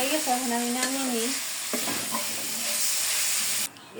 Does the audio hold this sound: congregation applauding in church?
no